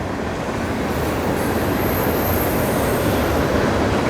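A loud, continuous rushing rumble of a train passing close by, with a faint high squeal of wheels in the middle.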